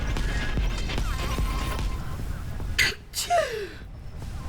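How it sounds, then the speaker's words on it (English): A single close sneeze bursts out around the three-second mark, a sharp breathy explosion followed by a short exhale, over a low room hum. "I'm gonna sneeze again."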